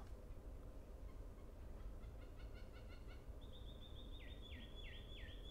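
A male long-tailed finch's song plays from a recording, faint high chirped notes and then a few sweeping whistles over a steady background hiss.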